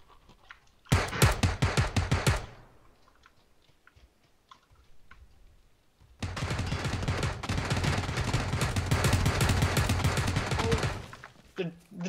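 Gunfire in PUBG gameplay comes in two rapid automatic bursts: a short volley of about a second and a half, then a longer sustained string of shots lasting nearly five seconds, both loud and close.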